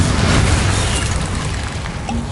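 A Bombarda blasting spell explodes in Hogwarts Legacy, a heavy, rumbling boom that fills the clip and slowly decays without any speech.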